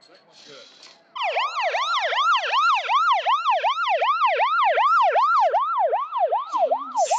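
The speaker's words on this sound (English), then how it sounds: "Siren." A loud wailing siren cycles rapidly up and down in steady repeated sweeps, close by and continuous after a brief murmur at the start.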